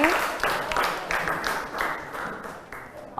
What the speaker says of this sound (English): Clap your hand for yourself.